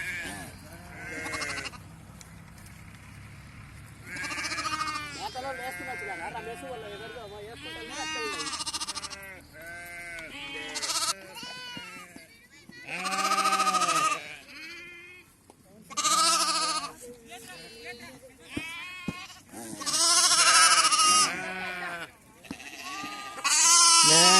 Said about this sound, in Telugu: ఎందుకంటే గొర్రెల మందలు ఉన్నాయి కదా ఇక్కడ